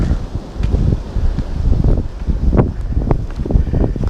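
Steady wind gusts buffet the microphone on a forest trail on the Benton MacKaye Trail near Amicalola Falls, with rustling leaves and rough low rumbling throughout, no talking.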